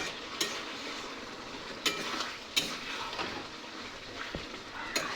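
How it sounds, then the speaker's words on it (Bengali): Chicken curry being stirred in a pot, with occasional sharp utensil knocks against the metal over a steady soft sizzle, quiet and unhurried, with no talking. "এবার ঢাকাটা খুলে নেব, একটু নেড়ে দেব।"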